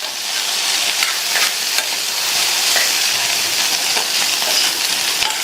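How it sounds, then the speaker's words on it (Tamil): Beans poriyal being stirred with a coconut mixture in a hot frying pan, a loud continuous sizzle with scraping spatula strokes and occasional clicks against the pan throughout. "சேர்த்துட்டு எல்லாம் ஒன்றா மிக்ஸ் ஆகிற மாதிரி நல்லா கலந்து கொடுத்துருங்க"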